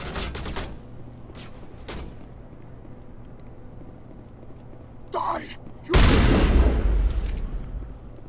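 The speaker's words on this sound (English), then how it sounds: "What are you shooting at?" Gunfire and explosions in the Mass Effect video game, a few sharp bursts followed by a sustained loud blast, with people talking over the combat.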